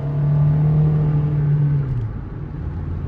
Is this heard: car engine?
yes